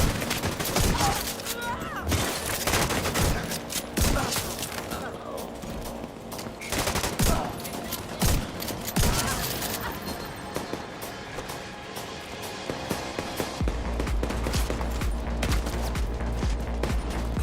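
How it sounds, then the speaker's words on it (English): Gunfire from The Division 2 in the Battle for Brooklyn setting: dense overlapping bursts of automatic and single shots, loud and continuous with sharp cracks, heavy impacts and mechanical clicks throughout. "that guy's shooting me from way up there"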